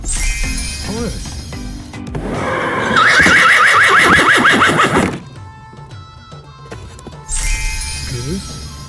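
Horse neighs twice amid a toddler farm-animal toy sequence, a clear whinny burst mid-clip followed by a shorter one near the end, loud and close, with brief voice-like sounds at the start.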